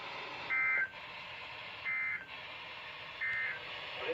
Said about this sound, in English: This is a test of NOAA Weather Radio's warning alarm device